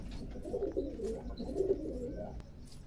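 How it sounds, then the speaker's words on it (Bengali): Pet pigeons coo softly in soft, repeated throaty rolls at close range, with faint chirps and light rustling in a quiet room and no one talking. "তো এই যে সব আমার কবুতর"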